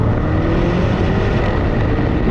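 A 650hp Lamborghini Urus accelerates hard in a drag race, its engine a loud, dense, continuous roar recorded close up, with no voices.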